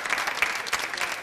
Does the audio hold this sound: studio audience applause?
yes